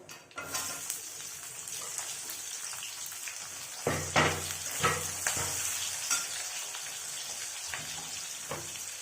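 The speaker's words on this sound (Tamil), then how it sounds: "இது நல்லா கொஞ்சம் ப்ரௌன் ஆகிற அளவுக்கு வதக்குங்க" Two sliced onions sizzle in oil in a kadai for mushroom biryani, a steady close frying hiss broken by several scraping stirs and light metallic clinks of the spoon against the pan.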